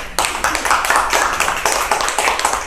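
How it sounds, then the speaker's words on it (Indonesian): Audience of school teachers clapping together, a close, lively burst of fairly loud hand claps with an uneven patter that keeps going throughout. "Tepuk tangan untuk kita semua."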